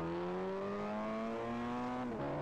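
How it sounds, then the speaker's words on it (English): In GTA San Andreas on PC with a sound pack installed, a car's engine hums with a smooth, tonal drone that climbs gradually, then drops sharply near the end as a gear shifts, heard up close without voices. "Nice engine."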